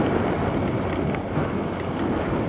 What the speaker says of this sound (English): The wind is absolutely howling out here